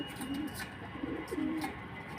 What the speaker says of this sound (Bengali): ভালোই লাগে যখন কবুতরগুলা এভাবে হাঁটে রাত্রে